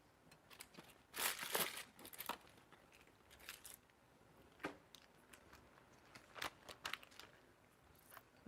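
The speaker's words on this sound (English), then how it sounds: "Let's get a plastic bag." A plastic bag crinkles and rustles in a kitchen in short irregular bursts, faint and close with quiet gaps between handlings, and no one talks.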